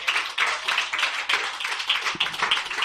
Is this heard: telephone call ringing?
no